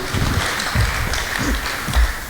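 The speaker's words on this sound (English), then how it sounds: "our round of applause, please" A conference audience applauding at a startup founders' showcase kickoff, a dense, even patter of clapping heard from within the room, holding steady throughout.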